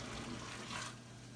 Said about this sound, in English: Get rid of this liquid that I do not need.